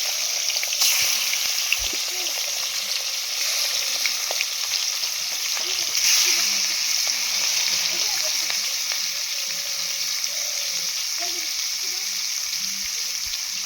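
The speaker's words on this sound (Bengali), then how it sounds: "সর্ষের তেলে মাছগুলো দিয়ে দিলাম" Rui fish pieces, rubbed with turmeric and salt, fry in mustard oil with a steady, loud crackling sizzle that runs throughout, broken by occasional spatters and faint clinks, with no talking.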